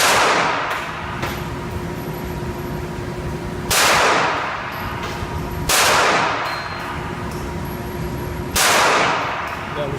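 Pistol shots from a Ruger SR9C at a shooting range, three loud, sharp reports spaced a couple of seconds apart, each ringing out with a metallic tail, with other range noise between them.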